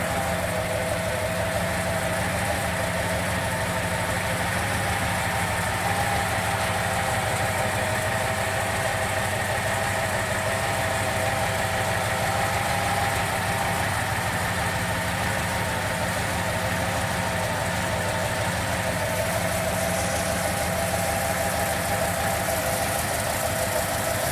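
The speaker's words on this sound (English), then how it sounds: "Here's the engine run." A 1956 Packard Patrician engine idles steadily and evenly, a continuous low rumble with a faint mechanical hum, close by and unchanging throughout.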